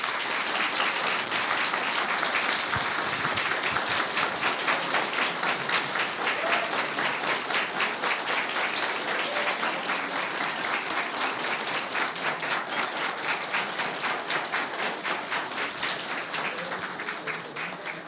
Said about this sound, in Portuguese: Eu quero que vocês deem uma calorosa salva de palmas até que eu peça para vocês pararem